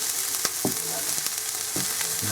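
Chopped onions fry in a pan for chicken tikka and are stirred, giving a close, steady sizzle broken by light scraping and clacking strokes of the spoon.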